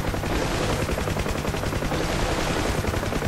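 A helicopter door gunner in DCS: UH-1H Huey firing on air defense targets: dense, continuous machine-gun fire blended with rotor and engine roar, loud and unbroken for the whole stretch.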